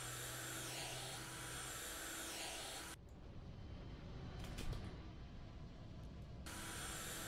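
A vacuum cleaner drawn across dirty windows in the video game House Flipper, with a steady broadband whoosh that runs loud, drops for a few seconds, then resumes at full strength.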